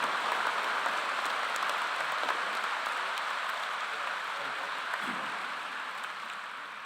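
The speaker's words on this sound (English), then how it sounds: "Please join me in a round of applause for these individuals." A large audience claps steadily at a university's spring undergraduate commencement ceremony, a dense, even wash of applause heard from a distance that holds for the whole stretch and tapers slightly at the end.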